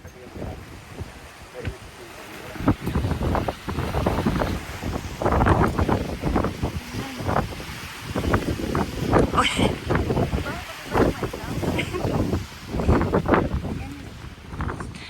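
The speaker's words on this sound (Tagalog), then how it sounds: "Yan yung hangin." Strong outdoor wind buffeting a phone microphone in gusty rumbling bursts, loud and close, while people talk over it.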